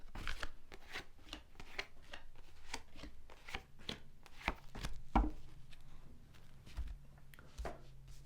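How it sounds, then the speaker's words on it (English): Tarot cards laid down one after another on a table, a steady run of soft, close slaps and shuffles with no talk over them. "let's just lay down your 10 cards on the table"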